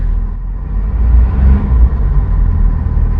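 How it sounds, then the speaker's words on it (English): A Ford truck's engine rumbles deep and loud, swelling into a brief rev in the middle before settling back to a heavy low idle, with no voices over it. "Bet you if I rev it, it'll scare the shit out of him."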